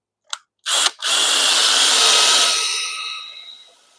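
Drill with a Forstner bit boring a hole into cherry wood: a short blip, then a loud whining cut that pauses briefly and resumes, grinding steadily for a few seconds before winding down, close and alone.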